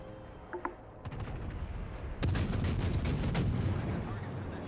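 Warship gunfire in World of Warships, with heavy booming salvos and rumbling bursts that swell into a loud sustained barrage, along with game background noise.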